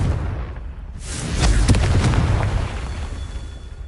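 A Confringo fire-blast spell goes off in Hogwarts Legacy, starting as a rushing roar and swelling into a loud, sustained rumbling explosion that slowly fades out over a few seconds.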